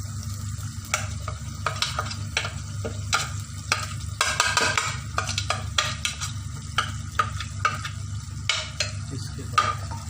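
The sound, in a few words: garam masala frying and stirred in oil with beef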